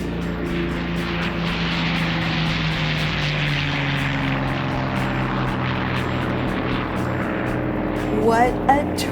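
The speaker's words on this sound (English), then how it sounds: "We're going to get to see one of these old planes take off." Vintage propeller plane at the Palm Springs Air Museum, a steady, fairly loud engine drone with a throbbing propeller beat that holds throughout, with a voice speaking briefly near the end.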